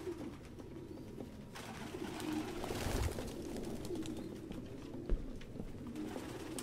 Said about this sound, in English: No human could live with all these fucking pigeons.